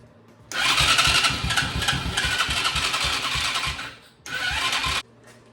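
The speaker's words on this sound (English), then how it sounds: "It wants to turn over. I don't want to mess up the starter." A 50cc Chinese ATV engine cranks over on its electric starter, loud and close, in a long rhythmic churning burst of about three and a half seconds, then a brief pause and a second shorter burst.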